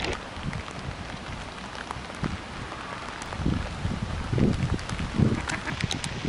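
Heavy rain pattering directly onto a Canon 1DX camera with an EF 400mm f/5.6 lens outdoors, a dense irregular patter of close drops with soft gusts of wind buffeting the microphone throughout.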